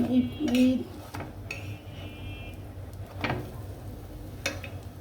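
Katha pitha cooks without oil in a pan as it is flipped, with a clatter of metal utensil against pan, then brief scrapes and knocks over a low background hum, close by and without speech.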